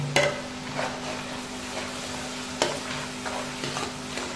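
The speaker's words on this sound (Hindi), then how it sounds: "अब हमें इसे उस वक्त तक फ्राई करते रहना है ताकि इसका कच्चापन खत्म हो जाए" Chana dal (split chickpea lentils) with crushed garlic and ginger sizzling steadily in a pan while a spoon stirs and scrapes, with a few sharp clinks of metal against the pot.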